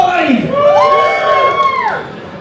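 An audience at a console-wars debate event cheers for the PlayStation 5, a single loud swelling whoop and yell from the crowd that rises and falls over about two seconds.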